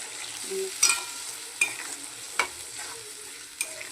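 Ground spice paste (masala) for bhetki fish kalia sizzles steadily in a pan while a spoon stirs it, four sharp scraping clacks spaced about a second apart over a soft frying hiss, close and alone.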